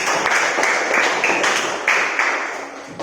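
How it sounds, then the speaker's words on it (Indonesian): Students in a classroom give a short burst of applause, dense overlapping claps filling about three seconds at close range. "Tepuk tangan dulu untuk Syarif."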